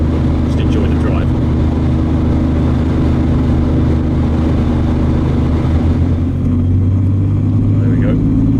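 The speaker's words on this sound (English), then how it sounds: "There we go, that's full throttle." A 1975 Ford Granada GL engine pulls at full throttle, a loud steady drone close by with a slight rise in pitch near the end, and a voice speaks briefly over it.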